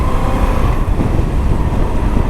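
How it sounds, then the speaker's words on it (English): Loud, steady Moto Guzzi V85TT motorcycle engine drone with a low throbbing exhaust note and wind rush, as if heard while riding at speed. "the noise this motor and the exhaust makes is is quite good"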